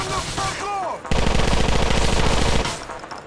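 Dense automatic gunfire erupts from GTA IV: The Ballad of Gay Tony, a loud rapid burst of shots lasting over a second after brief tonal game sounds, then cutting off.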